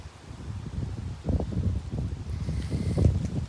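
Strong wind gusts outdoors through a fruit-laden cherry tree, roaring into the microphone with rustling leaves, building louder toward the end.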